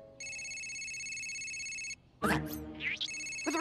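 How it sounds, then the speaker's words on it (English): A cartoon telephone rings in a steady electronic tone for about two seconds, breaks off for a loud burst of animated commotion, then starts ringing again near the end. "Someone stop the ringing!"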